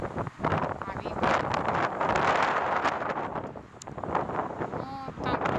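Strong wind gusting on the Tokyo Bay shore, a loud, steady roar buffeting the microphone throughout, with faint voices and bay sounds mixed underneath.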